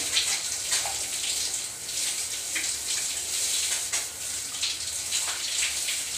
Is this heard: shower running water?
yes